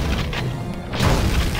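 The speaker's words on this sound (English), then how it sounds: "I guess it's a rocket launcher." A rocket launcher shot bursts in the video game Duke Nukem Forces, a deep booming blast that swells after a brief lull and rumbles on loudly with no voices over it.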